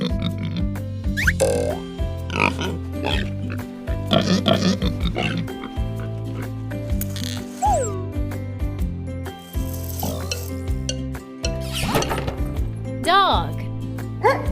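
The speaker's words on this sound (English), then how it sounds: "Pig." A pig oinks in a farm-animal sound lesson, a run of grunting calls layered over a steady musical backing, fairly loud and close.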